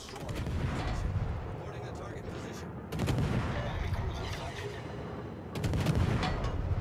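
Naval game guns of the American cruiser San Diego firing shells in three heavy salvos about three seconds apart, each a sharp loud blast with a rumbling tail, with faint talk between them.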